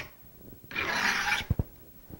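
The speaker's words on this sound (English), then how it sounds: "hold it at a 90, and roll it as I draw it across the file. And I can feel it and I can hear it." A cabinet scraper rolled and drawn across a metal file, one rasping stroke of about a second, followed by a couple of light knocks, close and fairly quiet.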